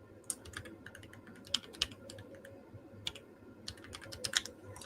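Fast, uneven typing on a desktop computer keyboard: quiet, close clicks and occasional louder key strikes over a steady low hum.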